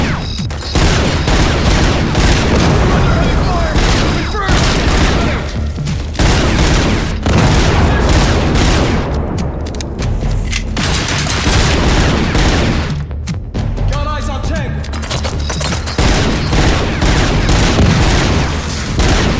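Dense, loud gunfire from the RoboCop: Rogue City video game roars almost without pause: rapid overlapping bursts of shots mixed with heavy booms and clatter, a continuous fusillade with no voices.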